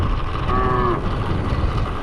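A single short, low moo from a bull in a Madhya Pradesh village, close by over a steady outdoor rumble.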